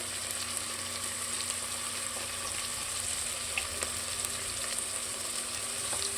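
Onions with cashews and raisins fry in ghee for ghee rice with a steady, moderate sizzle, with occasional faint clinks and stirring noises over the frying.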